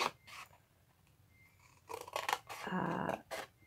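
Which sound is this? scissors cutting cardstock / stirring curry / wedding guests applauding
scissors cutting cardstock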